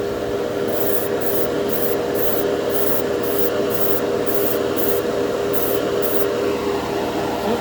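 Short airbrush-style bursts of Mr. Clear Color GX titanium gold candy paint spraying onto a spoon, about a dozen evenly spaced hissing puffs over a steady background hum, with no talking.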